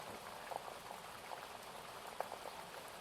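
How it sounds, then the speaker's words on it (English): Steady rain falls as a soft, continuous hiss with scattered pattering drops, faint and even throughout, with no voices. "your ears listen for a little longer to the rain, really savouring the experience"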